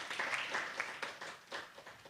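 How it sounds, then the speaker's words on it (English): An audience at a symposium and mentorship forum applauds, a soft, steady patter of many hands clapping at moderate distance, with brief louder bursts and no talk over it. "So a round of applause to all of you as well."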